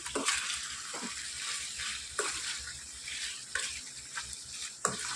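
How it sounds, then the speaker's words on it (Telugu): Ground cumin and halved green chillies are stirred in a hot pan for a mutton curry, with a steady close sizzle and a few sharp spoon scrapes recurring roughly every second or so. No one speaks. "ఇప్పుడు వీటిని బాగా మిక్స్ చేసుకోవాలి"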